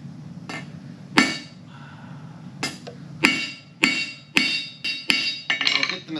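Hot steel is hand-forged into a stem for a plant stand, sharp ringing hammer blows on the anvil, a few spaced strikes and then a quicker run of about seven, loud and close.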